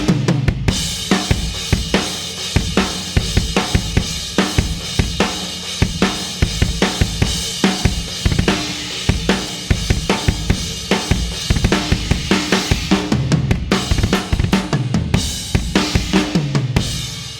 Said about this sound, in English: And that's just a straight crash ride rhythm.